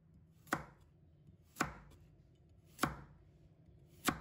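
A knife chopping a carrot into short pieces on a cutting board, four sharp, evenly spaced thuds about a second apart, close and clear against a quiet background.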